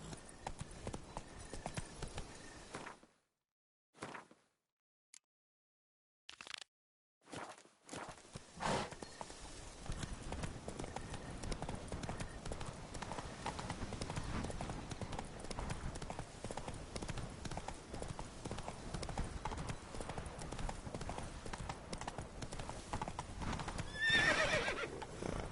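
Hooves of Roach, a horse in The Witcher 3 on PS4, clip-clop steadily at a walking pace through most of the stretch after a few brief gaps, with a whinny near the end and a spoken voice briefly over it.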